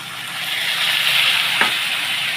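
Mutton with spices sautéing in a pan with only a little water, giving a steady, close hiss of frying with a brief stirring scrape partway through.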